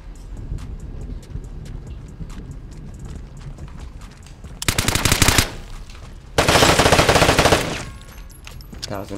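Two bursts of rapid automatic gunfire in the Vigor video game, each lasting about a second, loud and close, with quieter footsteps and ambient game sounds around them.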